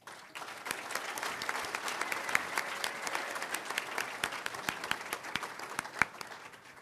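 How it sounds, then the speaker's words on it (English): An awards-celebration audience claps for a finalist team, a dense, even round of applause with many sharp individual claps, held steadily for several seconds before tapering off at the end. "Please join me in a round of applause for the Tony Pacos team."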